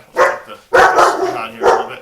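Zegna, a pet dog, lets out a few loud, close barks in quick bursts, with someone speaking nearby between and over them.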